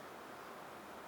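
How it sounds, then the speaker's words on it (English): Steady, even hiss of rain falling outside, broadband and unbroken, with no voices or other sounds over it. "Sorry about the noise. It's raining outside."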